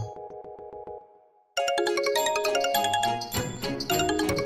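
Mobile phone ringing unanswered, a repeating electronic chime ringtone pulsing for about a second, then a brief drop, then a dense, loud musical tune that keeps playing.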